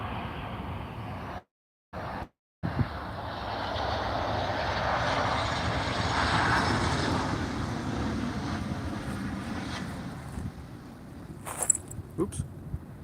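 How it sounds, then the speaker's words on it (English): A Jet2 airliner lands at hazy Tenerife airport, its engine roar a broad, steady rumble that swells and fades over several seconds, heard at a distance with a brief break partway through. "Here's the Jet 2 just landing."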